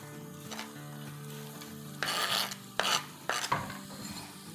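Finely chopped onion sizzling in a few tablespoons of oil for haleem, a soft steady fry with a few louder bursts of stirring and scraping near the end, close up with no talking.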